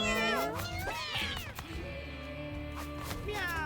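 Several cartoonish kitten meows from the video game Mewgenics, quick rising and falling cries over a busy, quiet game soundtrack, a few in the first second and more near the end.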